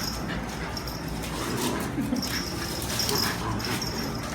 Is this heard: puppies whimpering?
yes